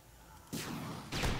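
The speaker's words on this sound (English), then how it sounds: "use the rocket launcher" A rocket launcher fires in Last Stand Union City, two sharp broadband blasts about half a second apart, the second slightly louder, with no talk.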